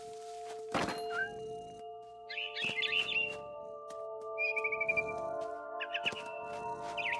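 A frightened barn swallow in the video game What Remains of Edith Finch lets out several short bursts of rapid chirping over a sustained musical drone, punctuated by a few soft thumps.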